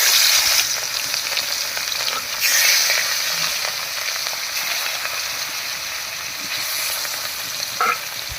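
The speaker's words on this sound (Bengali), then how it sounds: "এই কটা মাছ ভাজা হয়ে গেছে নামিয়ে নিচ্ছি" Pieces of katla fish fry in hot oil with a continuous crackling sizzle, close and fairly loud, broken by occasional swells and stirring scrapes, with no talking.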